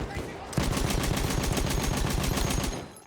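Sniper and other gunfire in the World War I shooter Battlefield 1 rattles as a dense, continuous rapid burst, loud and close, for most of the stretch.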